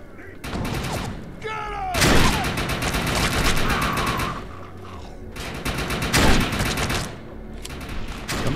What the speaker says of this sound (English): Somebody's using a shotgun at me